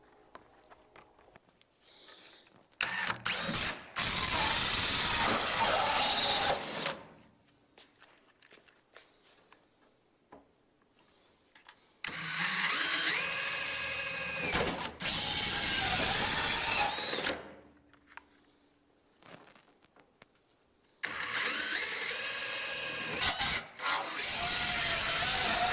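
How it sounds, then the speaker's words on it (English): A hole saw on a power drill cuts through a sheet metal fender filler on a NASCAR Toyota Supra build, in three long, loud, harsh grinding bursts separated by quieter pauses with faint handling noises. "The hole saw made quick work of the large chunk."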